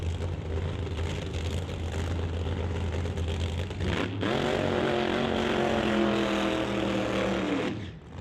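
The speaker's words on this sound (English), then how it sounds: "Tom Riethmeyer not having a little bit of a weird burnout there" Ford-powered Ford Mustang drag car doing a slightly odd burnout in the burnout box at a drag racing event, a loud steady engine roar with screeching tire harmonics rising after the first few seconds, then easing off near the end.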